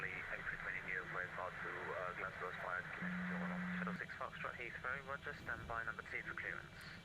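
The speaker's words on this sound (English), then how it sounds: "Very busy on the ATC frequencies today" Air traffic control radio traffic plays inside the X-Plane 11 flight simulator during a Concorde flight from London to Madeira, with continuous back-and-forth transmissions and a brief tone over a low cockpit hum.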